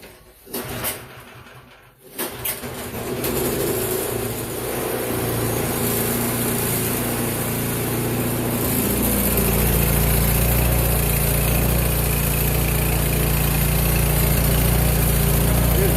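A Remington small gas engine with the choke off sputters before catching, then settles into a steady, loud running drone that builds slightly and holds close by.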